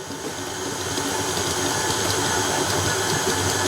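Sugar and butter being creamed together with an electric mixer, a steady whirring hiss that runs continuously without pause and with no talking.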